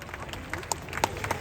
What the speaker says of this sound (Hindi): A great round of applause for guests.